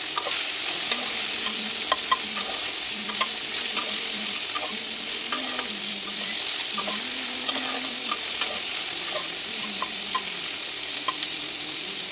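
Spice paste for an okra dish with mustard and poppy seed sautés steadily in a pan, a continuous close sizzle with scattered small pops and occasional scraping stirs, no voices.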